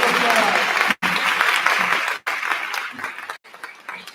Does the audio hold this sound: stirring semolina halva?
no